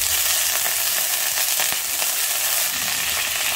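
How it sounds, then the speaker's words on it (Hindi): Cumin seeds, asafoetida and red chilies sizzle in hot oil in a home kitchen, a steady bright frying hiss with small crackles, close and continuous with no talk. "तेल गरम हो गया, इसमें डालेंगे जीरा, हींग, लाल मिर्ची,"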